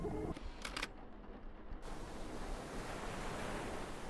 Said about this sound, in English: Listen for the waves, Flathead.